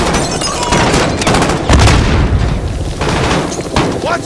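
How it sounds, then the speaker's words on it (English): A grenade blast in the video game Call of Duty Modern Warfare (2019), one loud booming burst amid dense gunfire and explosions of a firefight, with a voice shouting over the chaos. "Grenade! Watch out"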